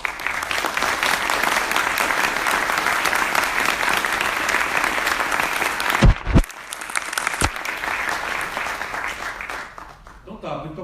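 Sustained applause from a debate audience at FGV in São Paulo fills the hall for about six seconds, then breaks into scattered claps and a few loud knocks before fading into quieter room noise.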